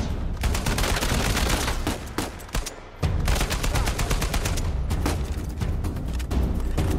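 Sustained rapid gunfire in Uncharted 4: A Thief's End, with dense automatic bursts and loud cracks nearly continuous, a brief lull around the middle, then volleys resuming close and loud.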